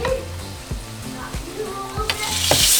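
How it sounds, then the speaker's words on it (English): Carne asada meat sizzles loudly in a hot skillet, a steady close frying hiss with soft clunks and scraping as the pieces are placed and moved, building slightly toward the end. "once my skillet is hot, I'm going to place my meat"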